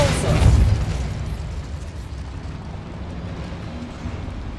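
Repulsor spell fired in Hogwarts Legacy on PS5, a loud booming blast in the first second that decays into a lingering rumble and soft background noise.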